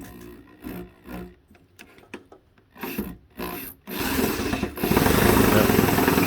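A power drill whirs in short bursts, then runs continuously and loudly as it bores in, with scraping and rubbing between bursts.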